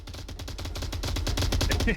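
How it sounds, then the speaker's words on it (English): Rapid, close automatic gunfire in a video game as a prone player shoots blindly out of a window with a bipod-mounted weapon. The bursts are dense, evenly spaced and loud throughout. "just shooting blindly out of the window with a bipod"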